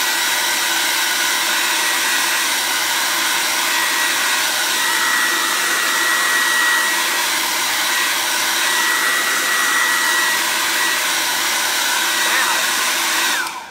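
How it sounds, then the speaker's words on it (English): A hair dryer blows steadily at close range for about fourteen seconds, drying chalk paint on a canvas; the loud, even whoosh stays constant until it cuts off at the end. "let's get the hair dryer real quick so that we can dry this for our next layer"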